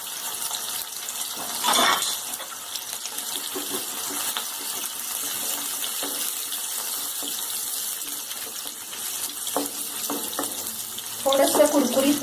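Green chilli and garlic, lightly crushed in a mortar, go into hot oil where mustard seeds are already spluttering over a lowered flame. A steady close sizzle and hiss runs throughout, with louder crackling bursts near the start and end.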